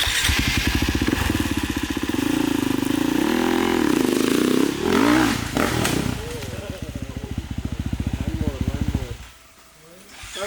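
A motorcycle engine revs hard and rises in pitch for a jump, loud and close with rapid throttle bursts, then drops away before picking up again.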